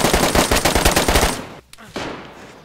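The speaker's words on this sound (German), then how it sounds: "Schuss von links oben, mich hat's erwischt." Rapid automatic gunfire in the survival video game DayZ, a fast burst of close, loud shots for over a second, then a brief single crack and a lower rumble as it fades out.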